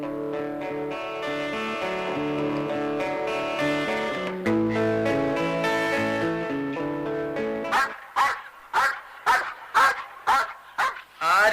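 A dog barks in a Malayalam radio drama from Akashvani, a rapid series of loud, sharp barks that bursts out after a stretch of music.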